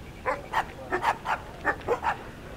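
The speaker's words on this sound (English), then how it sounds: "I heard dogs barking." Several dogs barking at a moderate distance, about seven sharp barks in an irregular rhythm, heard alone against quiet background noise on a hillside in a city of staircases.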